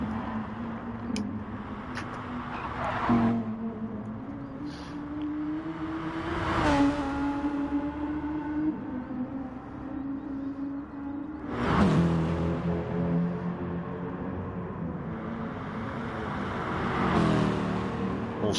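A BMW race car runs at the Nurburgring, its engine pitch climbing and dropping as it passes and shifts, with several whooshing surges of moderate loudness over a steady background of other engines.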